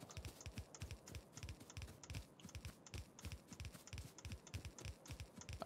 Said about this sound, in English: I hope you can hear me angrily typing on my fucking mouse there.